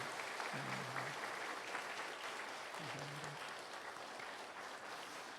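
Steady applause from a church congregation for an Easter choir performance fills the whole stretch, even and sustained without pauses, with a faint low tone sounding briefly twice beneath it.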